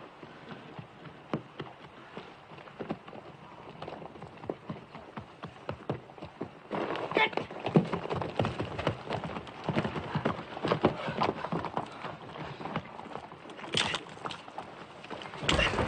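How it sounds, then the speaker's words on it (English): Horse hooves clip-clop steadily in an Old West wagon setting, a faint, irregular patter at first that grows louder and denser from about seven seconds onward, with no voices over it. "Get them horses under cover."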